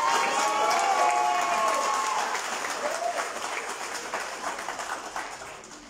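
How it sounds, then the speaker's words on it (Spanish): Loud crowd applause at a PRI municipal committee swearing-in ceremony in Izúcar de Matamoros, dense and sustained, with some cheering and voices, slowly fading as the clapping thins out. "para que también pida un fuerte aplauso."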